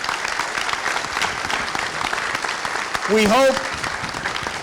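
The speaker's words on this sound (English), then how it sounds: "I just want to give everybody here a round of applause to all of our speakers tonight" A roomful of people applauding speakers at a lunar exploration event, steady clapping throughout, with a brief word and a short sung or voiced tone rising over the clapping near the end.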